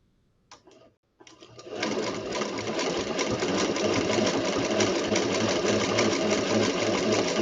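A Singer Featherweight sewing machine starts with a couple of short clicks, then runs steadily, giving a loud, continuous, even whir of rapid stitching that carries on to the end, close up and with no talking.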